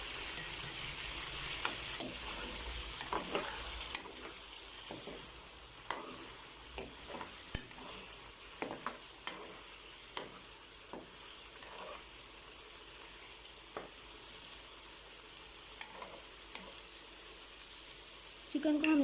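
Chicken pieces, seasoned with a little salt, deep frying in hot oil for an arvi chicken dish: a steady bubbling sizzle with scattered sharp crackles and pops throughout, close and even.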